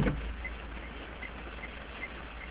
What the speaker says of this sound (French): Actuellement, c'est une pluie assez modérée, assez simple, assez fine.